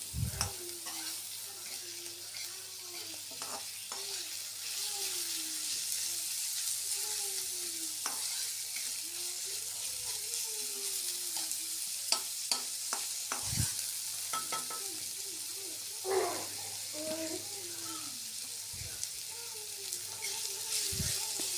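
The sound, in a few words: frying onions, green chilies and coriander leaves in a pan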